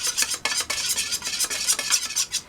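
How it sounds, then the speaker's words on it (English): A screwdriver stirring paint in a spray gun cup, a fast rhythmic scraping and swishing close up, with a few brief hard knocks against the cup and no talking. "take the lid off the spray gun and stir it. Stir it with a screwdriver"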